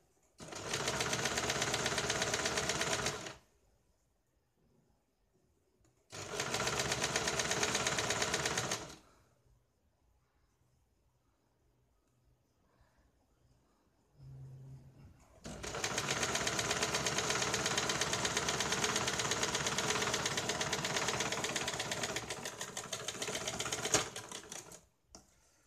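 A sewing machine stitching a straight seam on fabric for a thin blouse dori runs in three bursts of fast, steady mechanical whirring, close and even, separated by quiet pauses, with the last run much longer.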